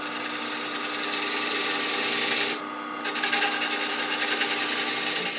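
Wood lathe cutting a tenon on a green Bradford pear bowl blank, a loud continuous close-up scraping hiss with a steady motor hum, pausing briefly midway before resuming.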